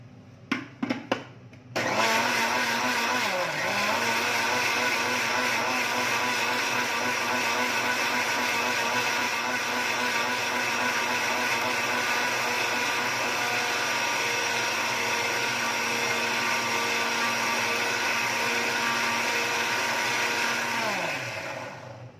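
A mixer grinder grinding masala paste for bamboo shoot sambar, starting with a few short clicks and then running as a loud, steady whirring drone for about twenty seconds before spinning down at the end.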